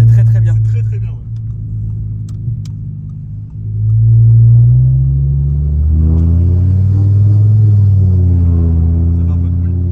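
Interior road noise from a Renault Scénic 1 on the motorway, a low, steady engine and tyre rumble with rising and falling pitch, carried under someone talking.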